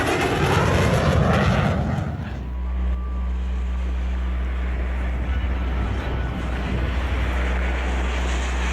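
An airplane engine roars near a runway, a rough, loud burst at first that settles into a steady, heavy drone with a sustained hum, buffeted by wind noise.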